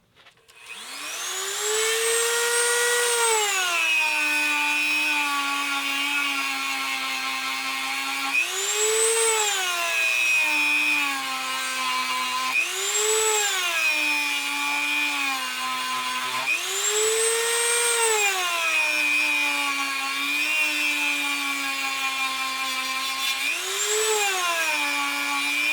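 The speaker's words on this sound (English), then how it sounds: "You can see that we're starting to get a port cut in here now." A high-speed power tool whines steadily while cutting a port into a Kirst Konverter metal frame, its pitch dipping and rising repeatedly as it bites into the workpiece, loud and close for the whole stretch with no talk.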